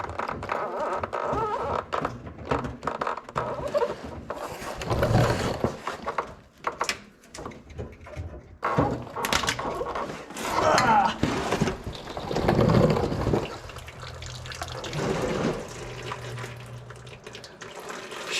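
Transmission fluid draining out of a loosened pan on a Dodge Ram W150 automatic, a steady liquid trickle and splatter with metallic clanks, close by, with brief talk over it.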